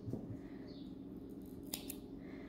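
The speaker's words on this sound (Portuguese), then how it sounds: "só pra cortar esse excesso" Scissors snip excess yarn from a crocheted amigurumi owl, giving a couple of quick close metallic clicks in a quiet room over a soft steady background hum.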